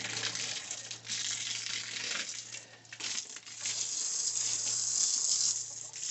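A hose sprays water to wet down a chicken yard, a steady close hiss and splatter that dips and surges slightly as the spray moves, with no talking.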